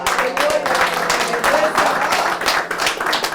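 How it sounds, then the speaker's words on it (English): Audience applause at a conference session on building national infrastructure systems, a dense steady wash of many hands clapping close by for a few seconds with no speech over it. "Give the Lord a round of applause."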